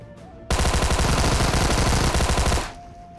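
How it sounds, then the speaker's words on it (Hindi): Sustained burst of Tommy gun fire in a battle royale shooter game, a loud rapid rattle of closely packed shots lasting about two seconds and then stopping abruptly. "उस बंदे को क्या ही टॉमी गन से मारता हूँ"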